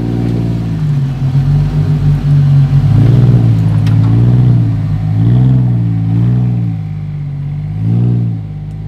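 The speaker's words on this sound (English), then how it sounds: "we've got a pretty monster hill climb up through here, which looks fairly wild." A 4WD running tyres at 8 PSI climbs a steep off-road hill. Its mid-pitched engine revs up and down in repeated surges, loud and close, with some clatter underneath.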